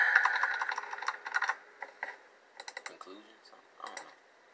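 Typing on a computer keyboard in bursts of quick clicks and taps with short pauses, close up, mixed with a voice talking over part of it.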